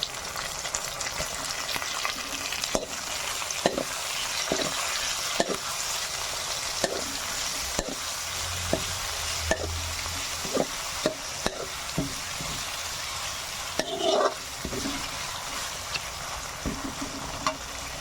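Tomato fries in hot oil for chicken liver masala, giving a continuous close sizzle. Spatula strokes and scrapes recur regularly throughout.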